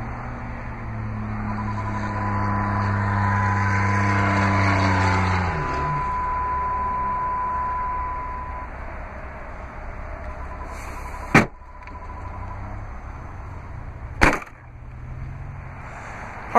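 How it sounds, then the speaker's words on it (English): Third-row seats of a 2008 BMW X5 3.0si folding down, a steady mechanical whir with a faint tone for several seconds followed by two sharp clicks or thumps as the seats latch, all without talk. "I'll fold your third row seats."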